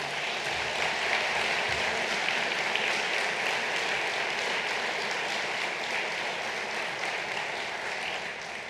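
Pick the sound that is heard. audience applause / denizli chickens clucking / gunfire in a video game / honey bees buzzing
audience applause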